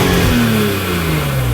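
A BMW Z4 M or M3 engine with a voltage regulator fault, heard revving briefly under throttle, a loud close tone that slowly falls in pitch as the revs ease off.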